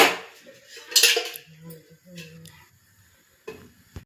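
A large cooking pot is set down on a stove, producing a few sharp metallic clanks and scrapes near the start and end, with quieter handling and a brief voice in between.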